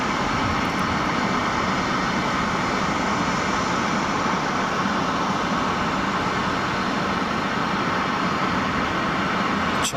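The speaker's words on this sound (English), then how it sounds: "China 747 departure imminent" A China Airlines Boeing 747 departing from Boeing Field, King County International Airport, heard as a steady, broad jet-engine roar holding at constant loudness throughout, distant rather than close.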